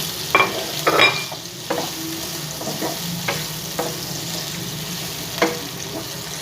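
Onions sizzle as they fry toward light brown in a pan for a mutton and bhindi gosht, a steady hiss broken by several sharp clinks and scrapes of stirring, close and moderately loud with no talk.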